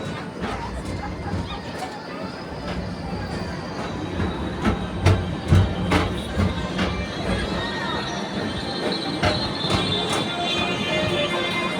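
A TTA Peoplemover ride vehicle travelling on its track around Tomorrowland, a continuous rumbling roll with faint clicks and squeaks, moderately close, under a recorded announcer voice and ambient crowd noise.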